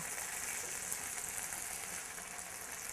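A poor man's meal frying in a pan, a steady broadband sizzle holding evenly from start to finish with no pauses, close and fairly quiet, with no voices.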